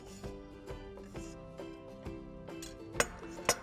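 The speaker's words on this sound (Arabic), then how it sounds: "نخلط المكونات عنا هون" Ingredients stirred together in a bowl give a series of quiet, evenly spaced clinks and taps from a utensil against the dish, with a couple of sharper knocks near the end.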